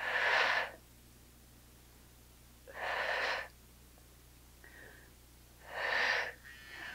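Forceful exhales during an upper body weights workout, three strong breathy bursts spaced a few seconds apart, close and fairly loud over a quiet low hum.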